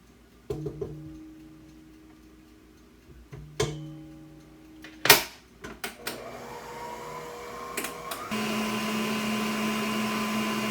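Electric mixer blending keto pumpkin creme cookie ingredients in a bowl, preceded by several knocks and clicks, then a steady close motor whir that builds and continues to the end.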